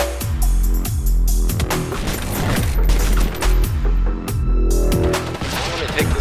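Gunfire in the video game Arma 3 DayZ Overpoch, rapid bursts of loud automatic shots and sharp cracks packed densely together over several seconds, close and harsh, with brief shouts from players mixed in.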